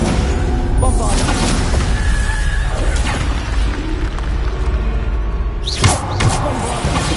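Bombarda spell explosions in the Hogwarts Legacy video game, booming blasts and crashes that repeat through dense, loud combat noise with game music behind them.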